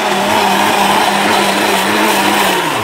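Electric blender grinding chili paste at high speed, a loud steady motor whine with a slightly falling pitch near the end, running alone throughout.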